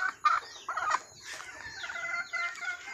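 Chickens being fed cluck close by in short, irregular bursts, with one louder squawk early on and softer murmuring clucks layered over a quiet background.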